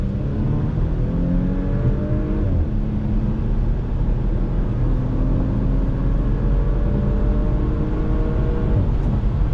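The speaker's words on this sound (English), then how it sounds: "Let me go ahead and do an acceleration test on throttle." A 2019 Porsche Macan S accelerates at full throttle in automatic mode, heard from inside the cabin as a steady, muted engine drone with rising tones that drop and climb again through quick gear shifts.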